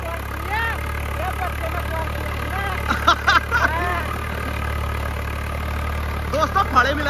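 A Swaraj tractor engine idles steadily, a low, even rumble that runs throughout at moderate loudness, with a few brief knocks or clunks over it.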